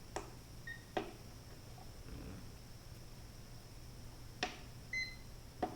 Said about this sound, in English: if you press it and it's 1 beep, that might be turning it on